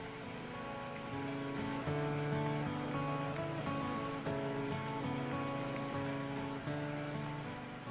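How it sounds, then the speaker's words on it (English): A machine embroidery unit stitches position stitches on an in-the-hoop mug rug, producing a steady mechanical hum with a rapid, regular needle rhythm and brief pauses between runs. "your machine's going to start again, and it's going to do a position stitch for the 2 arms and the face fabric"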